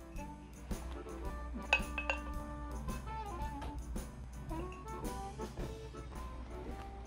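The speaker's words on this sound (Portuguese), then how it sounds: "chegamos no momento de macerar esse limão" Lime pieces are being muddled in a glass for a beer caipirinha, giving soft repeated clinks and dull knocks of the muddler against the glass, fairly quiet and close, with no talking.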